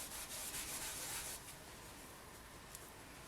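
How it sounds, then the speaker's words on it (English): Polymer clay being rubbed by hand to vary its colour, a steady close, soft scratchy rubbing that is harder at first and then lighter and quieter, with no talking. "And now I'm only going to rub hard in some areas, and other areas I'm not going to rub as hard"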